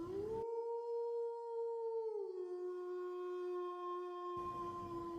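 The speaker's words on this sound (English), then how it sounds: "Red would hear the wolves howling in the distance." A long, smooth wolf howl drawn out over several seconds, holding a steady tone before sliding slightly lower, set against a soft background that falls silent during the howl.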